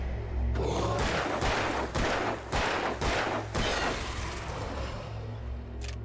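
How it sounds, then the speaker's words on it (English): Revolver fire in the video game Alan Wake: a quick run of about six loud, sharp shots in close succession, each with a short booming tail, over a steady low rumble of game ambience. "we can pick up the revolver and shoot him"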